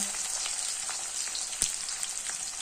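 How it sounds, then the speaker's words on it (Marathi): Onion and garlic frying in a pan for masala okra, a steady close hiss of sizzling oil with light crackles and one sharp pop, no talking. "लसूण कांदा छान मस्त असं परतून द्यायचं"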